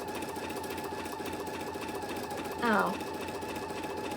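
An embroidery machine stitches a placement line, making a steady, even mechanical whir and needle chatter that runs throughout, with a short spoken word briefly over it.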